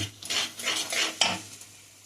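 A spoon stirs salt into an eggplant curry in a pan, giving a few soft scraping strokes over a faint low hum, quiet and close.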